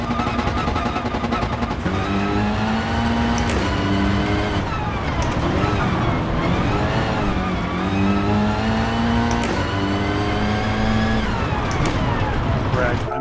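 Race car engine on a full-circuit one-lap attack in Gran Turismo Sport, droning loud and steady with rising and falling pitch through gear shifts and revs, under a talking voice.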